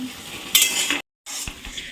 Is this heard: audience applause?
no